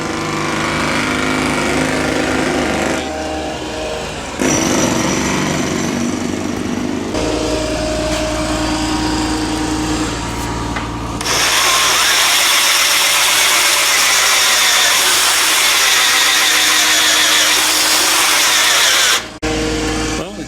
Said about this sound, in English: we got road workers right out here. There's a ditch witch parked right outside.